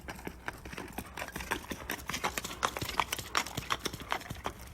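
Horse hooves clip-clop in a steady, uneven rhythm on a hard surface, fairly close, with no voices.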